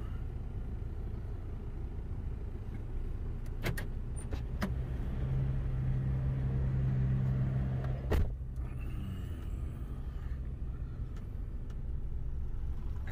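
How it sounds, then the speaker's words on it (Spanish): Heavy road traffic of passing cars makes a steady, dense rumble that holds throughout, with a brief louder swell near the middle and no voices. "Hay mucho tráfico."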